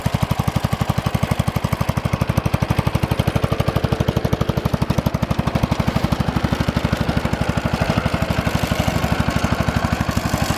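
Old Kubota K-Series tractor diesel running steadily after a cold start in sub-freezing weather, a loud, close, rapid even chugging knock that holds its pace throughout with no talk.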